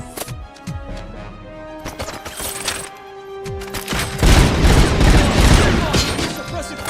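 Suppressive gunfire builds into a loud, dense, sustained barrage of rapid booming shots and crashes, after earlier scattered bangs and clatter.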